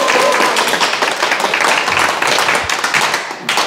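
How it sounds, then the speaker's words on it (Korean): An audience at a Sunday Dharma talk bursts into loud, close, dense clapping that holds steady for nearly four seconds, with a few voices faintly mixed in. "자기 자신에게 박수 한번 치겠습니다."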